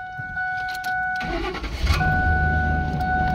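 A 2004 Ford Expedition 5.4-litre V8 engine cranks and catches, then settles into a rumbling idle over a steady electronic chime.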